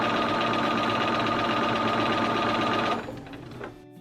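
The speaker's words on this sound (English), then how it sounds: "So I'm just going to sew it right here." A sewing machine stitches a curved seam joining the right sides of shorts fabric, running in a steady, loud rapid whir for about three seconds before slowing and stopping.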